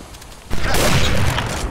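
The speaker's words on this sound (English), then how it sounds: "Grenade." A grenade goes off in a tactical shooter game, a sudden loud blast after a quiet half-second that rolls into a broad, sustained roar lasting over a second.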